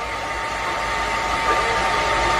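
Hair blower drying hair before a show, a constant loud whooshing airflow with a steady whine, running without pause.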